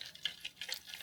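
Imitation crab sticks sizzle and crackle in oil in a frying pan, short bursts of bright frying noise across a brief moment with no voices.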